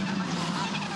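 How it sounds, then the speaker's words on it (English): Formula 4 race cars at a Sydney circuit, tyres squealing under hard cornering in a close multi-car battle, a steady loud screech blended with engine roar throughout. "Oh, tyres squealing."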